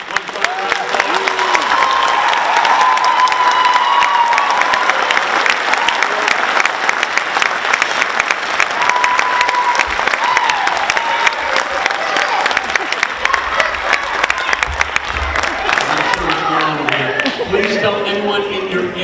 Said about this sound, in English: Can we please have a round of applause, 7th and 6th, and Jazz and Ms. Chung.